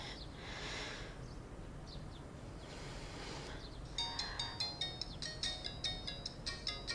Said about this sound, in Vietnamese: Em muốn nghe điện thoại không?